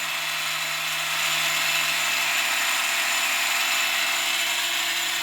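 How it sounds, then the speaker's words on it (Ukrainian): A worn 12-volt heating circulation pump hums steadily with a constant whirring drone, close by and unchanging, with no voices. "ось дивіться, 12 вольтовий насос"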